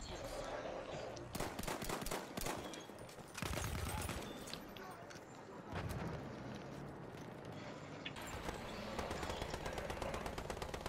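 Gunfire in Battlefield 1 during a tank battle, bursts of machine-gun and rifle shots crackling over continuous battle noise, with people talking over it.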